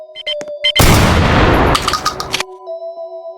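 A gunshot in a horror video game lands as one loud, sudden blast that rings briefly and decays over about a second and a half, framed by soft chimes and game tones before and after.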